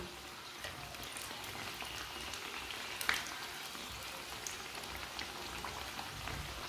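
Samosas frying in ghee in a pan: a steady, fine crackling sizzle, close and constant throughout, with a single sharper pop near the middle.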